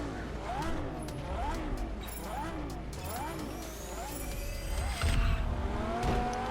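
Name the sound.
car engine accelerating in the video game Test Drive Unlimited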